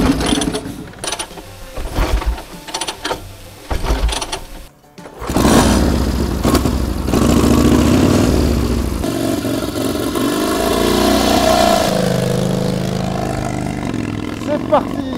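A 1931 Indian Scout 101 motorcycle on a modern race circuit, its engine starting up after sparse clatter and then revving and pulling steadily, loud and close, with people talking over it.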